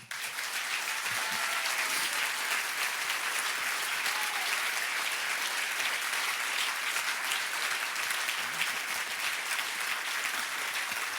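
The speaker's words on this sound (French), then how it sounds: "Applaudissez-vous." Dense, loud applause from a festival crowd under a circus tent, a continuous even wash of clapping that holds for over ten seconds without voices.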